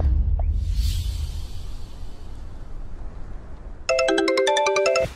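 A phone ringtone bursts in after a swooshing transition and low rumble, a bright repeating electronic melody of quick tones playing loudly for over a second.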